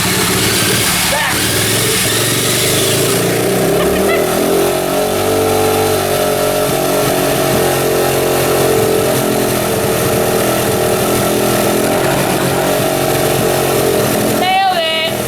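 A junkyard Honda XR80 dirt bike engine running loud and close, idling roughly with a series of revs, continuing steadily throughout, and ending with a brief sharp burst.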